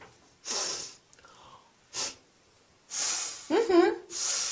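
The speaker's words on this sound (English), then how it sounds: "How do I show disapproval? Easy. You sniff." Several short sharp sniffs and breathy exhales separated by pauses, close up, with a brief voiced snort-like sound in the middle.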